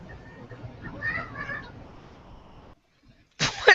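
A cat meows in a short run of harmonic cries in the first half, then a brief louder burst near the end, with faint background voices.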